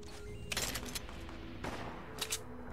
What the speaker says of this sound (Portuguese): Mano, da onde tá vindo esses tiros, velho?